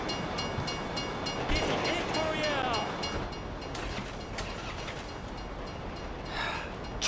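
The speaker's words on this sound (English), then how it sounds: "If you were local, you'd know the train comes by right now." A train rumbles past in the GTA V video game, a steady broad roar with a screeching squeal partway through, while someone talks over it.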